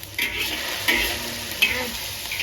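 Potatoes being stirred into minced meat frying in a pan, a steady sizzle broken by three or four scraping stirs, close and clear, with no talking.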